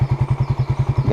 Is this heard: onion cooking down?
no